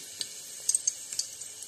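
Hot oil heating in a pressure cooker, giving a faint, quiet sizzle with a few small sharp crackles and pops scattered through.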